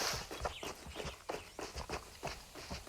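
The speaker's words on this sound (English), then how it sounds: "I hear footsteps right here" Footsteps in the video game A Twisted Path To Renown, a quick even run of soft thuds about three steps per second, fairly close and steady.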